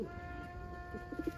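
An almond pigeon gives a few low, soft coos near the end over a steady electrical hum, faint and close.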